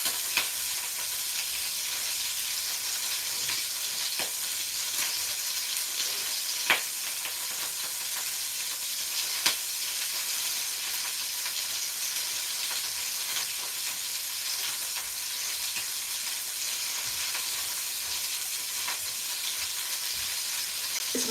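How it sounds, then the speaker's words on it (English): A pan of food sizzles steadily over lowered heat while it is deglazed with white wine, giving a continuous moderate hiss with occasional small pops and no talk. "I'll lower the heat, and then we deglaze with white wine"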